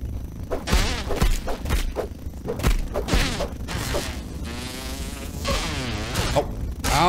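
Bees in the video game Grounded buzz loudly and close, several overlapping drones rising and falling in pitch alongside thumps and creaks, with no talk over them.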